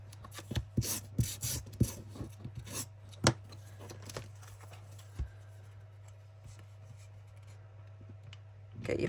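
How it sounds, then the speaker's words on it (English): Paper edges being sanded by hand for junk journal tabs, a series of short scratchy rasping strokes close by, bunched early and then thinning out to occasional faint rubs. "Sand down."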